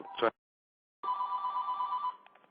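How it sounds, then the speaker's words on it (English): A telephone line on a radio show rings for an incoming call, a steady electronic ring held for about a second after a brief earlier burst, close and clear, with no talk. "Hey, someone's calling line, but the phone number doesn't come through."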